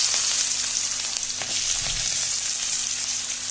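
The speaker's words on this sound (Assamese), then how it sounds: "তেলখিনি গৰম হোৱাৰ পাছত আমি ইয়াত কাটি থোৱা পিঁয়াজখিনি দি দিম।" Chopped onions sizzle in hot oil in a pan, a steady, close, loud frying hiss with occasional faint clinks, with no talking.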